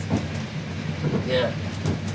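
A passenger train rolls through a mountain landscape, its steady low rumble and faint rail clatter filling the cabin while a person speaks over it.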